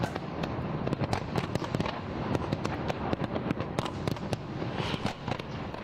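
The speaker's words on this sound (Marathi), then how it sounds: "फटाक्यांची आतिषबाजी करत न्यू इयरचं इथे वेलकम करण्यात आलेलं आहे" Dense New Year fireworks over Thailand crackle and pop in rapid, irregular bursts, a continuous barrage of sharp bangs heard from a distance over a steady rumbling wash.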